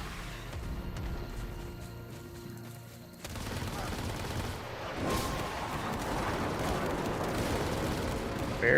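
Gunfire in the shooter game Warframe starts about halfway through as a dense, continuous rattle of shots and blasts, with a loud burst around the five-second mark after a quieter opening.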